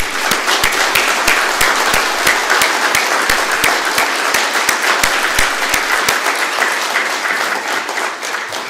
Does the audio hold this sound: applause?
yes